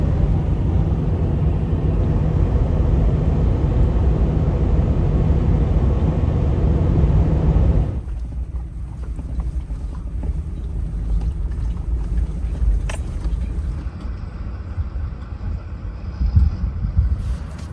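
Truck driving on a highway in New Mexico's high desert, a loud steady roar of road and wind noise that drops to a quieter, lower rumble partway through and continues evenly.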